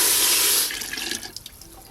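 Water is poured from a jug into a cooking pot for rice, first a strong steady gush that then tapers into uneven splashes and trickles, close by with no talk.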